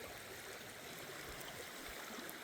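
High creek water rushes steadily along the bank, a continuous broadband stream wash at moderate level with no voices.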